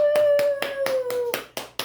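About eight evenly spaced handclaps, crisp and close, ring out over a steady tone that slowly falls in pitch, with no voices.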